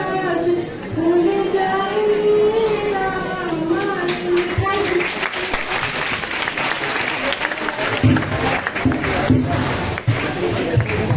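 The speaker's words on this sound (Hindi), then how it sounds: "तालियों बजाए।" A school crowd of students and teachers at a Swami Vivekananda birth anniversary celebration claps loudly and steadily, with shouts and cheers mixed in and chatter carrying through the long ovation.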